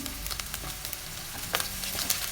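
Steady sizzling of finely chopped carrots frying in a pan, with a few soft scrapes and clicks of stirring scattered through, close and moderately loud.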